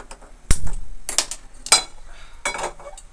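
A metal pot set down on a gas stove in a home kitchen while cooking drumstick curry: a few sharp clanks and knocks of metal, near and moderately loud, with short gaps between them and no talking.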